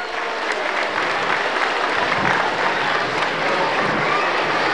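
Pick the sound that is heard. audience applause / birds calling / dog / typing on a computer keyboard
audience applause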